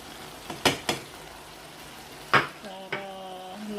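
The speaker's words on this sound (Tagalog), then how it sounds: "Lagay na rin natin yung bawang." Garlic goes into simmering chicken adobo, bringing a few sharp utensil clanks against the pan followed by a soft, steady sizzle of the reducing sauce.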